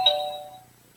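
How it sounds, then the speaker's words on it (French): A single bright electronic chime rings once and fades out over about a second, faint and alone. "Ah, ça c'est le téléphone, vous voyez. Ça sonne toujours quand il ne faut pas."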